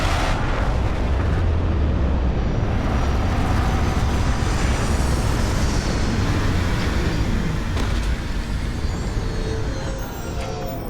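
Spaceship lifting off in Starfield, a loud, sustained roaring rumble of thrusters with deep low-end power and a hissing wash on top that gradually eases, no talk over it.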